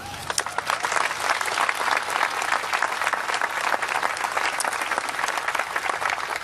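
Golf tournament gallery at the 2012 CPKC Women's Open applauding the winner, sustained loud clapping from a large crowd, dense and steady for several seconds with a few sharper individual claps.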